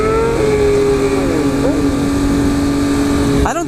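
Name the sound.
motorcycle doing a wheelie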